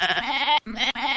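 A goat bleats in a quick run of three wavering, nasal cries separated by brief silent gaps, close and clear with no voices.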